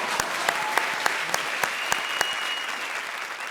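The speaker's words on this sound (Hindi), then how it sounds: "ठोको ताली।" Studio audience applause on a TV comedy show, a steady wash of clapping with a few sharper claps standing out, fairly close and with no talk over it.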